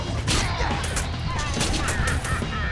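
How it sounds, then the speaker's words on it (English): Rapid gunfire from a firefight in the Deadpool video game, dense overlapping shots and bursts running continuously and loudly throughout, with busy game effects layered underneath. "Now that was a firefight!"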